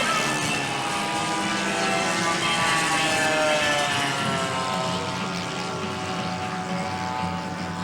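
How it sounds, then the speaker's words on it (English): Racing aircraft engines drone loudly in a steady, sustained roar during an unlimited air race, with the pitch sliding slowly as the planes pass, continuous throughout. "2 laps to go in this unlimited air race"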